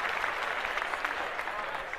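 An audience applauds in a dense, continuous patter of many hands that holds steady at moderate loudness and cuts off at the very end.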